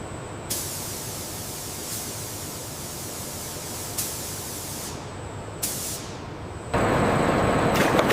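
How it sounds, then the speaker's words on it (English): Robotic paint systems spraying primer onto a BMW car body in a factory: a steady hiss of spray broken by several sharp bursts as the nozzles cut in, ending in a louder, continuous blast. "Robotic paint systems apply primer with exceptional precision"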